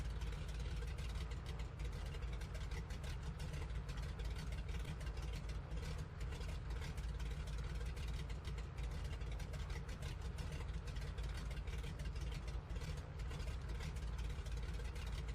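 A Grumman Goose's right radial engine idles in Microsoft Flight Simulator, a steady, even low rumble with a constant mid-frequency drone and no speech over it.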